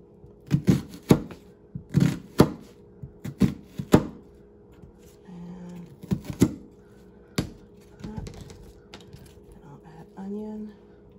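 A knife slices through vegetables on a cutting board for a cauliflower-crust pizza, giving sharp, close chopping strikes in quick irregular clusters. A few brief voiced sounds come through between the cuts.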